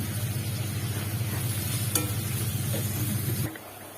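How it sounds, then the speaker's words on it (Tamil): Onions cook in a pan for a chicken gravy, giving a continuous close sizzle that runs until golden. A single sharp clink sounds midway, and the frying drops off abruptly near the end. "இப்ப வெங்காயம் வந்து நல்லா பொன்னிறமா வர வரைக்கும் நல்லா வதக்கிக்கோங்க"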